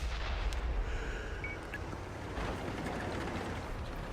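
Tank cannon fire in the tank video game World of Tanks with the Fv215b: distant booming shots and rumbling blasts roll under a continuous low engine and ambient drone.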